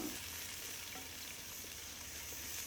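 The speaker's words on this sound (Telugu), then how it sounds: "అందులో ఉల్లిగడ్డలు బిర్యానీ ఆకు రెండు లవంగాలు అల్లం వెల్లిగడ్డ పేస్ట్ వేసుకొని కొంచెం పచ్చివాసన పోయే వరకు కలుపుకుంటున్నాను" Onions, bay leaf, cloves and ginger-garlic paste fry in oil in a clay pot for Telangana-style goat head curry, giving a soft steady sizzle with faint stirring scrapes and no voices.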